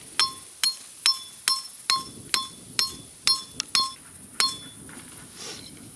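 A hammer drives a metal trap stake into the ground outdoors, giving about ten sharp, ringing strikes at a steady, fairly quick pace, loud and close, before the blows stop and only faint rustling remains.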